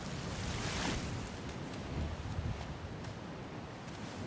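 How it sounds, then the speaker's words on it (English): A waterfall in the survival game Sons of the Forest makes a steady, loud rushing roar of falling water that fills the whole stretch without pause. "That's a waterfall."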